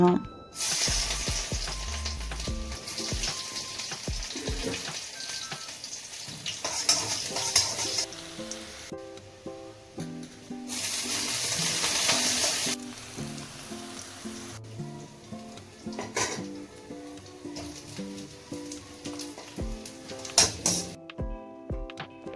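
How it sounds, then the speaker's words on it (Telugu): Marinated cauliflower (gobi) deep-frying in hot oil, a steady loud sizzle with occasional stirring clinks and bursts of spattering throughout. "మ్యారినేట్ చేసుకున్న గోబీని అయితే ఇదిగోండి ఆయిల్లో చక్కగా బాతింగ్ అయితే చేయించేస్తున్నాను"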